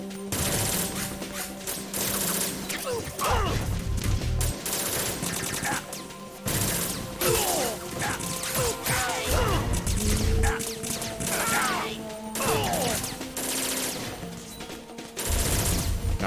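Enemy gunfire in Metal Gear Solid 2, loud bursts of shots and crashing impacts recurring throughout over a busy game soundscape, no talking.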